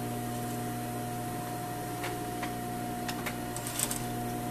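A sewing machine stitching a tailored sleeve at a matching seam gives a steady, low motor whir with faint clicks throughout, fairly quiet and with no voices.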